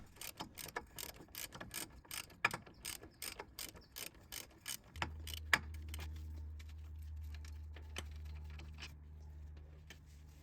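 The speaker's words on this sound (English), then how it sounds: "I have a 3/8 ratchet here" A 3/8 ratchet clicks rapidly and steadily, working bolts on the rear wheel hub of a 2008-2012 Infiniti EX35. A low steady hum joins halfway through, with occasional louder clicks over it.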